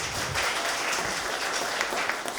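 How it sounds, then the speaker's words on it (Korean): An audience at a VR seminar applauds with steady, dense clapping that holds at an even level throughout. "한 분 한 분 박수로 맞이해 주시면 감사하겠습니다"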